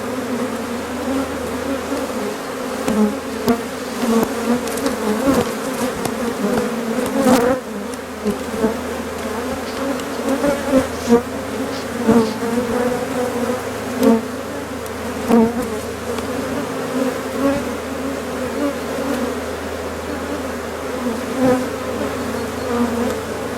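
Dense, steady buzzing of many bees fills the whole stretch, a close and continuous drone with no talking.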